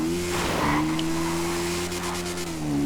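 A car in GTA V driven erratically, its engine droning steadily at close range with a tire skid partway through and a brief squeal near the end.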